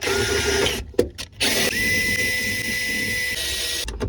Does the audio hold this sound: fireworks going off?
no